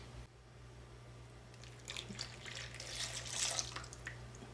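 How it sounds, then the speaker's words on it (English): A butter and milk mixture is poured into pumpkin puree with brown sugar, nutmeg and salt for cinnamon rolls, giving soft, close wet sloshing and squishing that builds gently over a few seconds beneath a steady low hum. "The next thing we're going to do is add in our butter and milk mixture."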